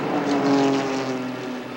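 NASCAR Busch North race cars at New Hampshire International Speedway in 1993, engines droning loud and steady with a sustained tonal whine as they run past, no voices over it.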